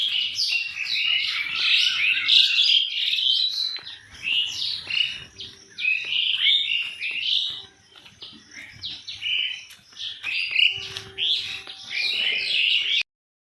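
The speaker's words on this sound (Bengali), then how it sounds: "বেরিয়েই পাখির আওয়াজ ভোরবেলা দারুণ লাগে তোমরাও শোনো" Many birds chirp and twitter loudly and almost continuously at dawn on a rain-soaked morning, overlapping calls coming in dense bursts with brief lulls between them.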